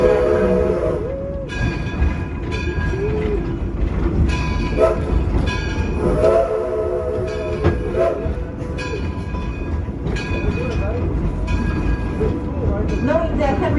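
A train runs on a museum's perimeter railway, with a steady rumble and clatter throughout, tonal squeals and whistle-like tones recurring, and voices talking in the background.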